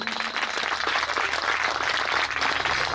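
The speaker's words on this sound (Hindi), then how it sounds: "अब एक बार शिव पुराण में पधारे सभी भक्तों के लिए ताली बजाओ।" Steady, dense applause from a large devotional audience at a Shiv Puran katha, loud and sustained for the whole stretch with no break.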